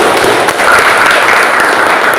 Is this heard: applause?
yes